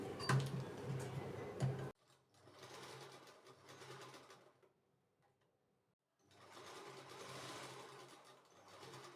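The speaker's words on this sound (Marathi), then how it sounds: "यानंतर आपण शिलाई करत असतो" A sewing machine stitches kurti fabric in several steady whirring runs separated by pauses, close up with no talking.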